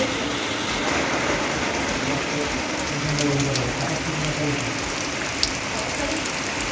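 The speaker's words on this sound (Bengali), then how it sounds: "খুবই মেঘ করেছে বৃষ্টি হচ্ছে খুব আমাদের বাইরে" Heavy rain falling outside on a cloudy day, a dense, steady hiss of rainfall with scattered drop impacts, constant in loudness and without talk.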